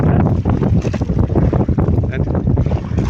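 Strong gusts buffet the microphone in a loud, rough roar, with a wet, rushing wash suggesting heavy rain; no voices.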